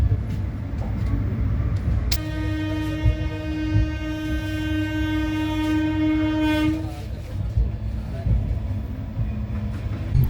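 The Purnagiri Jan Shatabdi Express sounds a long, steady horn over the deep continuous rumble of the rolling train, loud and close, with the rumble carrying on after the horn stops.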